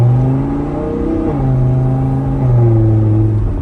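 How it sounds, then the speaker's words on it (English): A 2015 Audi R8 V10 Spyder engine heard from inside the cabin hums steadily and then steps up in pitch through several gear changes, loud and close with no talking. "This is one of the best sounding engines ever created, in my opinion."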